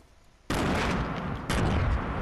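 Gunfire in the video game Fortnite comes as two loud, close shots about a second apart. Each leaves a dense, sustained crackling roar.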